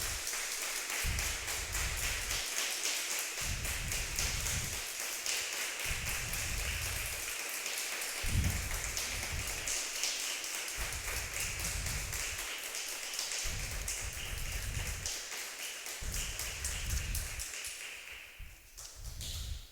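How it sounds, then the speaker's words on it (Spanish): A church congregation applauds on Good Friday in a long, steady wash of clapping that stays fairly even throughout before fading near the end, with no voices standing out. "Podemos darle un aplauso a nuestro Señor Jesucristo"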